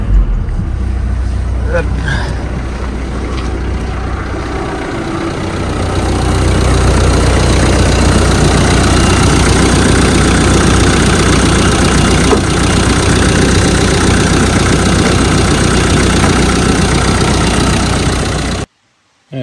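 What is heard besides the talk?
car engine starting and idling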